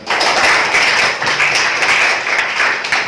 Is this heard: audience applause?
yes